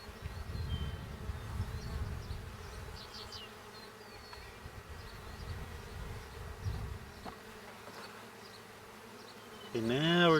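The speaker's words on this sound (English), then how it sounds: "Much more bees over here." Mountain Grey Caucasian honeybees buzz around an open hive during an inspection, a close, continuous droning swarm that swells and fades, with a sharper clatter near the end.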